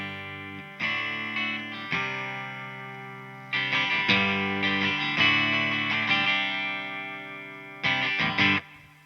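Electric guitar in a clean tone through a cheap overdrive pedal's clean channel plays sustained chords with short pauses between phrases, the notes ringing out with a soft reverb tail.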